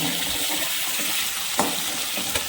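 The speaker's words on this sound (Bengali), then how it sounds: "চিংড়িগুলোকে আমি দুবারে ভেজে নেব।" Prawns frying in oil, a continuous dense hiss of sizzling with a couple of sharp pops or utensil taps, nearby and alone.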